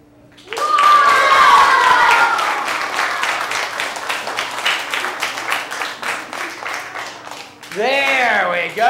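An audience at a found-object juggling show bursts into loud applause, dense clapping that fades to scattered claps while a performer talks over it, then the talk continues alone.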